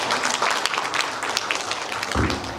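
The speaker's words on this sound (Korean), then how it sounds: "그럼 박수로 부탁드리겠습니다" Members of a landscape architecture society's board meeting clap together to approve a motion, a steady room-filling round of applause throughout the short stretch, with no one speaking over it.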